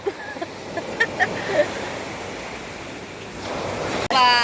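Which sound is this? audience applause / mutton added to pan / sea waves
sea waves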